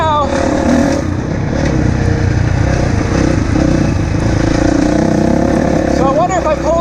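A Honda CRF450 dirt bike converted into a snowbike runs steadily in 2nd gear on a snowy mountain, its engine droning loud and continuous with small rises in pitch, while a rider talks over it.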